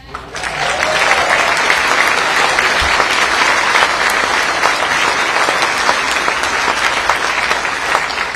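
A crowd at a campaign rally for Michigan GOP gubernatorial candidates breaks into loud, sustained applause that swells within the first second and holds steady, dense and close throughout.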